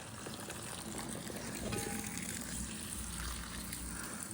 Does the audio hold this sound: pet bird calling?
no